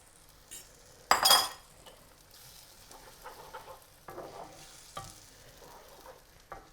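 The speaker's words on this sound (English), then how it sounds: "Now we add the eggs." Eggs go into a hot pan with herbs and get scrambled: a sharp clatter of utensil on pan, then soft sizzling with intermittent scraping and stirring strokes, fairly quiet overall.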